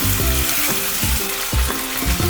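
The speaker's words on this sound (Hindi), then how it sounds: "और आलू को ऑयल के साथ भूनेंगे।" Potato pieces frying in oil in a pan over a medium flame for an aloo dish give a loud, continuous sizzle with rhythmic stirring scrapes recurring through it.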